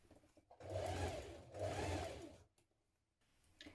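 Two short, even bursts of a sewing machine stitching a skirt to a dress bodice, quiet and close, with a brief pause between runs and near silence afterwards.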